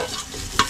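Garlic fries in a pan with a soft close sizzle and a quick stir, then one sharp scrape of the spoon near the end of the brief moment.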